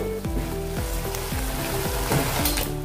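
Potatoes fry in a pan for an aloo baingan sabzi, giving a steady, close sizzle with the scrape and clatter of stirring, and no voices.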